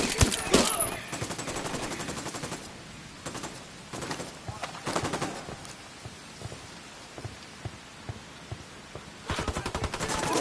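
Gunfire in the video game Ghost Recon Wildlands: bursts of rapid automatic fire crackling in clusters, with quieter single shots and rattling between volleys, fairly distant and muffled, a shouting voice briefly heard.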